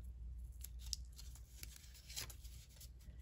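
Scissors snip steadily through paper, a series of quiet, crisp cuts close by against a low background hum.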